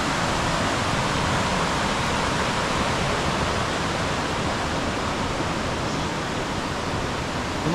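Continuous rushing flow of water beside a roadside hotel, a loud, steady broadband roar with no pauses, close by and alone with no voices.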